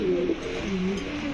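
Grevar Danish fancy pigeons coo softly at a pigeon farm, their low throaty burbling rising and falling in a continuous, close murmur.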